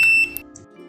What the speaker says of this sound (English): Now the feedback sound is on again.